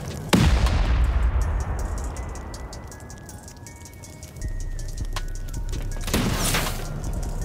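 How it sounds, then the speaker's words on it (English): Gunfire from an M2 turret during a raid on a giant open-core pyramid base in the Rust video game: two sharp, loud blasts with a long rumbling tail between them, set against a steady low hum. "M2 turret, I think."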